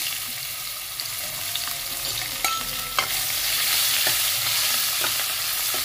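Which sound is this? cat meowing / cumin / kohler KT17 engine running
cumin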